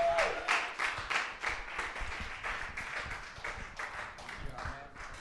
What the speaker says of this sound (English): One more round of applause for him.